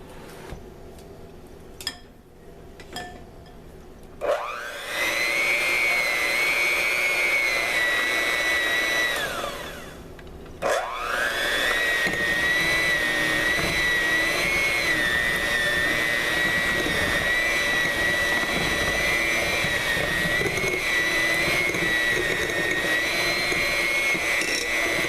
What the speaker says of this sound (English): we're going to take a hand mixer and we're going to cream this together.